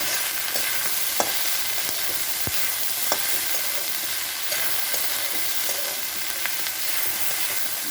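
Ingredients sizzling steadily in hot oil in a pan over a high gas flame just before bottle gourd peel goes in, a loud, continuous fry with occasional crackles and stirring taps and no talking.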